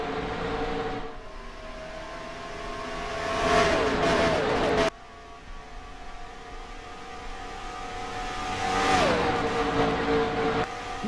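Race cars taking the green flag in NASCAR Racing 2003 on the Chicago oval, a steady engine drone with cars whooshing past in two loud passes, each ending in a falling pitch sweep.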